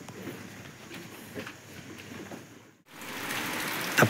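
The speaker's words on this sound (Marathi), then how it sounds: "आता परत रात्रीच्याला पाऊस चालू बरं का, थोडा थोडा." Light rain falling at night outside a cattle shed, a soft steady patter with a brief lull before it picks up again, faint and without talk.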